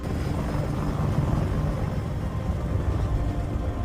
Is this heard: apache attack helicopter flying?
yes